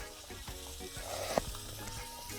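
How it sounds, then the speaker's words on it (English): A pressure cooker steams and hisses while boiling with Jamaican stew peas and pigtail, a soft continuous sizzle and bubbling with a brief louder spit, quiet and close, no talk. "we already had our pressure cooker here boiling over water"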